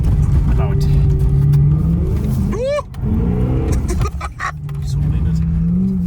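An S65 V8-swapped BMW 1M Coupe revving hard in second gear, loud and close, the engine note climbing and dropping through quick blips with a brief lift-off, and a voice talking over it.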